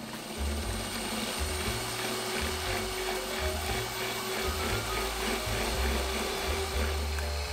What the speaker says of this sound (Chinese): 接着取来打蛋器，先开低速把白糖融化，然后开高速持续打发3分钟左右